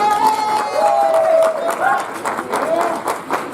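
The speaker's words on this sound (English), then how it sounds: "Big round of applause." Audience at a Billy Frank Jr. Day event breaks into applause and cheering, with clapping and whoops under scattered voices and a few high shouts, lively and fairly close.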